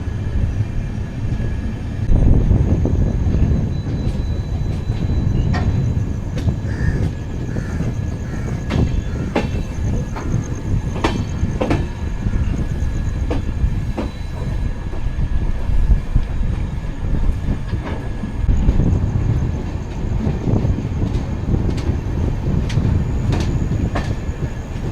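Another train rolling past at a crossing, heard from inside a stopped train on a Secunderabad to Goa journey: a long, steady rumble of wagons with occasional wheel clicks and faint squeals, no talk.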